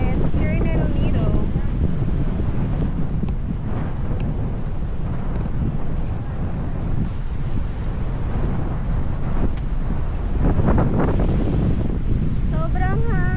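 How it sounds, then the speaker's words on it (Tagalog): Strong wind on Nacpan beach in El Nido, Palawan, roaring steadily across the microphone as loud, continuous buffeting, with brief voices speaking near the start and end. "Sobrang hangin."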